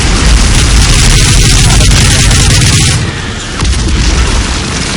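A flashbang grenade explodes in Modern Warfare 3: a loud, harsh blast of noise floods the sound for a few seconds, then drops to a lower roaring hiss with crackling static.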